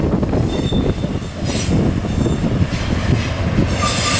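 A westbound freight train rolls through a curve at Cajon Pass, its wheels squealing over a steady, loud rumble of cars. Gusty wind buffets underneath throughout.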